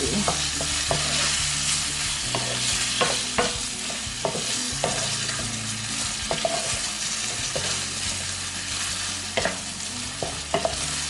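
Minced shrimp stir-fried with holy basil in a hot pan, a constant close sizzle punctuated by regular scraping and clacking strokes of a spatula across the whole stretch.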